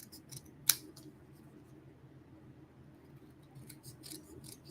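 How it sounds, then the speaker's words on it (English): Scissors give one sharp, quick snip through brown paper, followed by faint rustling and small trimming sounds in a quiet room. "I'm just going to trim off a little bit more of this brown"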